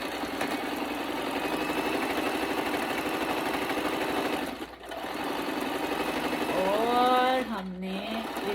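Sewing machine stitching along one side of a shalwar seam, running with a steady continuous mechanical whir close by while someone talks over it.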